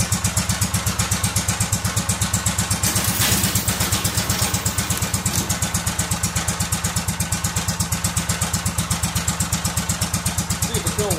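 Kohler Command CH16S engine on a Cub Cadet 2166 riding mower runs close and loud at a steady idle, a rapid even thumping beat with mechanical clatter, no voices.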